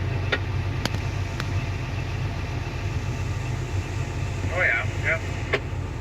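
The engine of a farm harvesting machine used for a green pea harvest runs steadily at a constant drone, with a few clicks and a brief squeak over it and people talking briefly.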